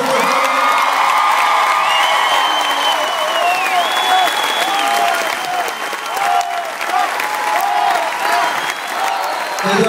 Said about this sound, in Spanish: Un aplauso para Ángel Aguilar.